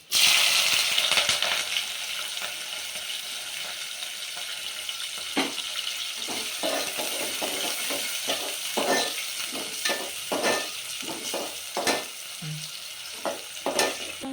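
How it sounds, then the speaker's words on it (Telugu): Onions, green chillies and whole spices such as cardamom and bay leaf fry in hot oil for chicken curry, a steady close sizzle broken by repeated scrapes and clatters of stirring. "కొంచెము ఉల్లిగడ్డలు ఎర్రగైన దాకా వేసుకుందాము"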